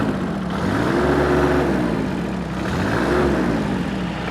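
A TC24D compact tractor, under 25 horsepower, runs at a farm auction. Its engine hums loud and close, rising and falling twice as the throttle is worked in smooth swells.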